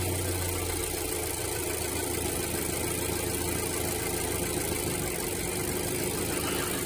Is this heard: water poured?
no